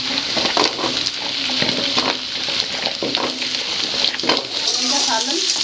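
Potatoes sautéing in hot mustard oil for aloo baingan sabzi, a loud continuous crackling sizzle with occasional stirring scrapes and clinks close by.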